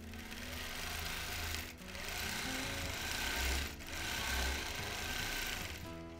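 Sewing machine running steadily while stitching down a pleat in a vintage quilt, a continuous close mechanical whir broken by two brief pauses.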